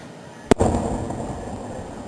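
Fireworks go off outdoors at night with one sharp, loud bang, followed by a crackling, rumbling tail that fades over the next second and a half.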